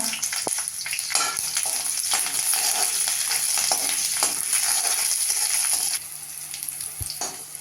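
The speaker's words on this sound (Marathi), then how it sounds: "कढईमध्ये एक टीस्पून तेल घातलंय त्याच्यावर आता आपण लसूण आणि मिरच्या भाजून घेऊया" Garlic and green chilies roasting in a teaspoon of oil in a wok, a loud steady sizzle broken by repeated stirring scrapes and clicks, easing slightly near the end.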